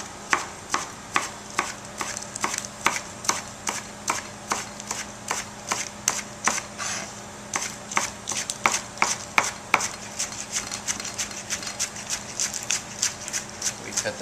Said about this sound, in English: I'm going to chop up some scallions.